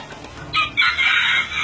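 A small serama chicken crows once, a short high-pitched cock-a-doodle-doo heard close and clear over a quiet farmyard background.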